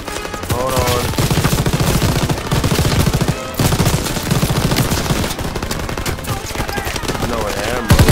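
Continuous, loud, rapid automatic gunfire from a World War II battle in the game Call of Duty WW2, sustained volleys with a brief pause midway, over dense battlefield noise.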